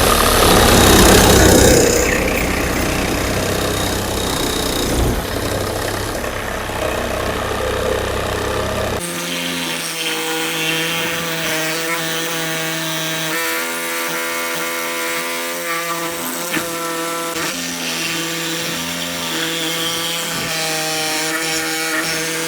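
A Procraft RS20A cordless reciprocating saw cuts through an 18 mm cast steel bar with a loud, harsh rasping for several seconds, then settles into a steadier buzzing whine that runs to the end.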